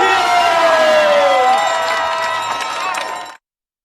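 Crowd roaring and cheering at the 2022 ICF Canoe Freestyle World Championships in Nottingham, greeting a new women's kayak freestyle world champion; loud, dense shouting and whistles that hold steady, ease slightly, then cut off abruptly.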